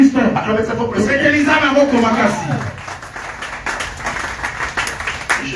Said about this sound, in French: Acclamez cette fois pour le Seigneur